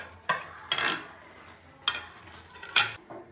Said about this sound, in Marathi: आपण इथे यामध्ये पनीर मिक्स करणार आहोत